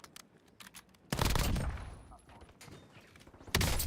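Rapid gunfire bursts in a Modern Warfare Resurgence match, a sharp volley starting abruptly and tailing off before another burst hits, with a voice speaking faintly underneath.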